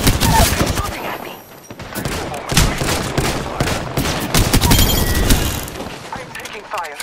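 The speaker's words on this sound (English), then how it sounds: "I am taking fire." Rapid automatic gunfire in the video game Apex Legends, loud bursts and sustained volleys crackling almost without pause under a player's talk.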